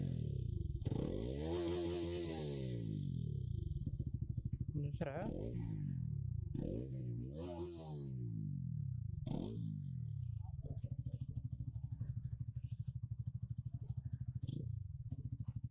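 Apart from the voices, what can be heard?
motorcycle engine running with silencer removed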